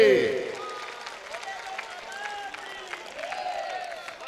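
Audience applause at a Hindi poetry recital, crowd clapping after the verse ends with a voice heard briefly at the start, the clapping continuing steadily at moderate loudness.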